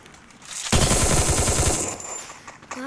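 Loud burst of rapid automatic gunfire from a shooting video game, erupting abruptly and rattling on for about a second before tailing off into quieter game ambience.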